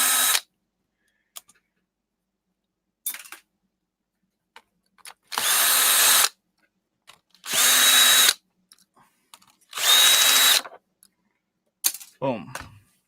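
Power drill backing screws out of a scrap computer, three loud whirring bursts of about a second each, with clicks and handling noise in the gaps and a short whine at the end.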